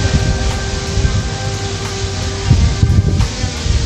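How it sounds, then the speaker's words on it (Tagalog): Steady wind noise buffets the microphone, with low rumbling gusts swelling louder near the end. "Lakas yung hangin eh"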